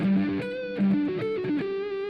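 An electric guitar picks a Christmas-carol melody of Joy to the World high up the neck, with short clean notes in a steady, quick line, close and fairly loud with no talking.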